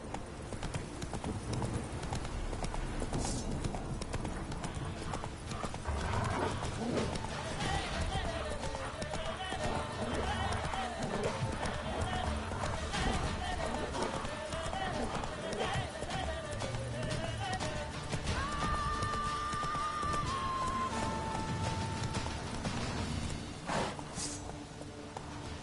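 Geralt's horse Roach from The Witcher 3 gallops in a steady, continuous clip-clop of hooves under game music and ambience, with a voice speaking over it.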